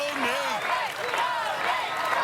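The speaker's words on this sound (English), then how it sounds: "Makes the first one, and the crowd chanting, "Go, Nate!"" A loud, continuous crowd cheers and chants at an American Ninja Warrior qualifier in Oklahoma City, with shouting voices rising and falling throughout.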